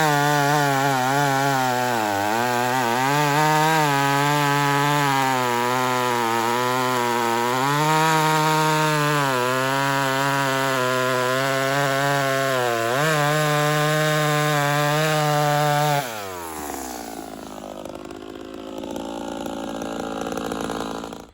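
Ported Homelite TazMan 58cc chainsaw running loud and close, its engine droning with repeated revving swells for about sixteen seconds before dropping to a rougher, lower idle that climbs again at the end.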